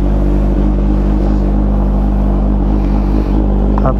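A 2023 Kawasaki H2 Carbon supercharged sport bike engine runs with a loud, steady, close rumble and strong low harmonics, holding nearly constant throughout without clear rev peaks.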